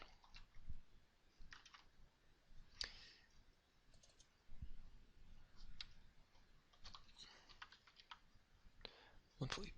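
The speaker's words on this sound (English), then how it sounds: "I'm going to type that in." Soft clicks of keys on a computer keyboard come in short irregular bursts as a formula is typed into an Excel spreadsheet, quiet and close with light room noise between the strokes.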